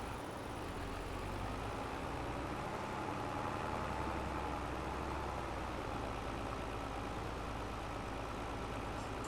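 Steady low tractor engine drone in the Farming Simulator 25 game, straining continuously as it climbs a hill, fairly loud and even throughout with no talk.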